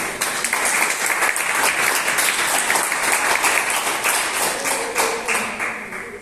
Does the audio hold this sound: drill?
no